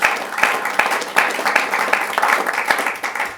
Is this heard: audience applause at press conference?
yes